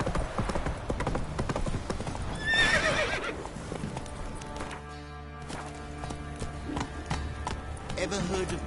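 Roach, a horse in The Witcher 3, trots with rhythmic hoof clip-clops and a neigh near the start, while game voices talk over parts of it.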